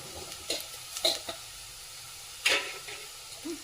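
Gobi 65 cauliflower fries in a little oil in a pan, giving a soft steady sizzle broken by several sharp, close stirring clinks and scrapes, with no talk.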